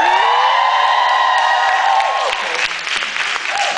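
An audience at a live performance in Toronto erupts in cheering, with high whoops and screams that give way to loud, sustained applause and crowd noise.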